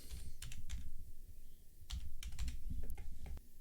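Someone types a six-digit code on a computer keyboard, two quick bursts of close, crisp keystrokes with a short pause between them.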